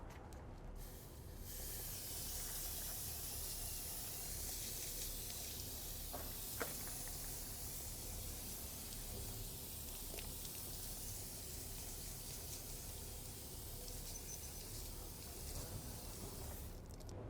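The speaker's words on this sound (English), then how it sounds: "it's time to give these wheels a pre-rinse and get on with the clean." Steady hissing spray of a water jet rinsing foam off chrome wheel rims, continuous and close for the whole stretch with small shifts in intensity as the stream moves.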